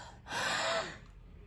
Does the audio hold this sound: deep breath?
yes